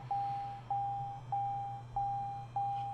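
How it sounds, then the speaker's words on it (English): Repeated electronic beeping inside a simulated light-aircraft cockpit in Microsoft Flight Simulator 2020 during engine start-up near Kviteseid, Norway: five evenly spaced tonal beeps about every 0.6 seconds over a steady low engine-like hum. "Okay, you can stop beeping."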